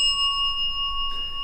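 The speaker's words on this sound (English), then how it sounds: "Thank you for ringing the bell." A small bell rung during a paranormal investigation at the Albany Convict Gaol in Western Australia gives a single clear ding that hangs in a long, steady ring over a quiet room.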